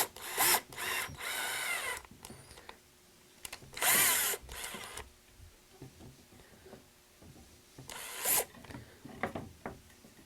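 Power drill boring holes in wood for a ski chair, several short bursts of high whine separated by quieter handling clatter and small knocks, close and loud.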